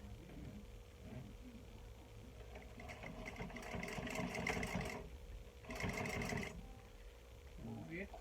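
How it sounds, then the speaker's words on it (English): A sewing machine back stitching on a makeup bag runs in two fast, steady whirring bursts, close and fairly quiet, with quieter handling sounds between and around them. "back stitch at the beginning and the end"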